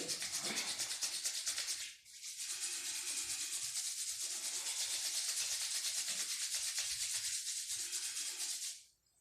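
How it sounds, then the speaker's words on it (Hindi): Palms rub briskly and steadily against skin during a throat massage in a yoga session, a loud, close, dry friction hiss that runs continuously, pauses briefly and resumes, then stops. "गले का मसाज ऊपर से नीचे की ओर करें। 3 बार रब करें, 3 बार मसाज करेंगे।"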